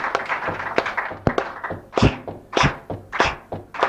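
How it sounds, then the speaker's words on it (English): A folk club audience stomps their feet on the beat, giving a series of heavy, evenly spaced thuds, close and resonant, with faint clapping mixed in. "Stamp your foot on the on beat."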